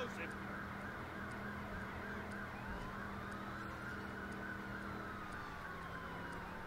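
A police car siren wails in Driver San Francisco, a steady faint rising and falling tone over constant engine and road noise, with talk mixed in.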